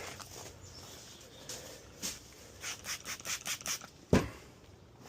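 A cloth rubbing compound off an AR-15 rifle on a table, quiet at first, then a run of short scrubbing strokes in quick rhythm with one sharper knock near the end.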